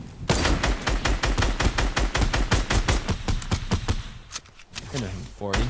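Rapid bursts of gunfire from a hunting rifle in the Fortnite video game crack in quick, repeated volleys, loud and close, with a voice speaking briefly near the end.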